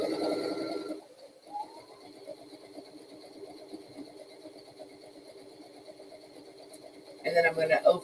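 A Brother sewing machine stitches quilt binding at a trade-show booth, giving a steady mechanical hum with fast, even stitch ticks for several seconds. Louder talk and handling noise come at the start and end.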